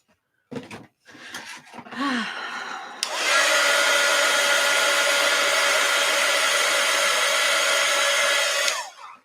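A dryer blows on wet paint in an art journal: a few seconds of light handling and rustling, then a loud, steady, close whoosh that runs for about six seconds before cutting off.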